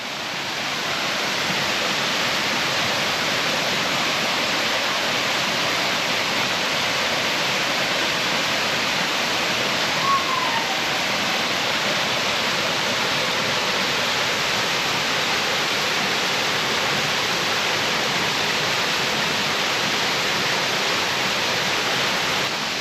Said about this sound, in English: I don't know if you can hear me over that loud waterfall